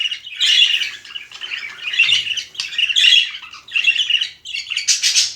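Newly arrived pet birds, including a recently paired couple, call from inside a cage with a steady stream of close, loud squawks and chirps in clustered bursts and almost no pauses.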